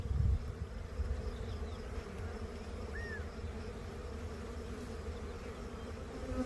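Honeybees buzz steadily around an open frame of eggs and pollen lifted from a hive full of drone brood, a constant close droning hum with no voices.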